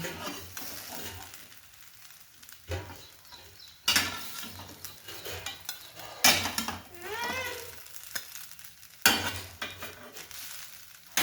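Poha with chutney is stirred in a frying pan, with bursts of loud scraping and clattering from a spoon against the metal pan, separated by quieter gaps and a low steady hiss.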